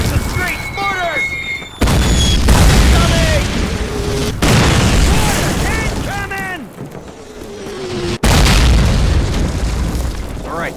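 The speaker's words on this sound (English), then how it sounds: "Mortars!" Mortar shells explode in a Call of Duty battle, several heavy booming blasts landing in sequence amid gunfire and shouted voices, each impact loud and close with a sharp onset and a rumbling tail.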